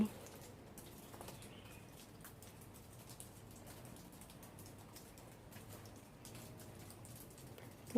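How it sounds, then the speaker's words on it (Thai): Early-morning rain falls steadily on a garden, a soft continuous patter with occasional bird calls in the background, quiet and even throughout. "นั่งดูฝนตกอยู่เนี่ย"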